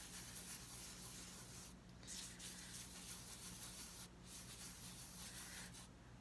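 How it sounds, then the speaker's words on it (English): Fingers rubbing gilding flakes by the handful into a sticky surface, a steady soft papery friction that runs continuously at low level, with a few brief crinkly bursts. "So I just took a bigger handful and I'm just rubbing them in"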